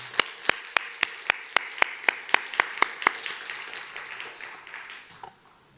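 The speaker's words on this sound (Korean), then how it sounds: "앞으로 나올 때 박수하도록 하겠습니다" Church congregation at a Friday evening service claps in a steady, evenly spaced rhythm of about a dozen sharp hand claps, then breaks into softer scattered applause that fades out.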